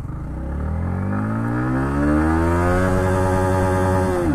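A Yamaha MT15 motorcycle accelerating hard through first gear, its loud close engine note climbing steadily in pitch as it revs up, alone with no talk.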